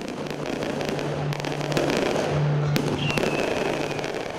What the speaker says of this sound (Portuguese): Na chegada, queima de fogos.